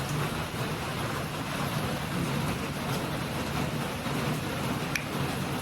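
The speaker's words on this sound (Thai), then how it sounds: "วันนี้ฝนตกมากเลย" Heavy rain pours down in a steady, dense hiss that stays even throughout, close and continuous, with no voices.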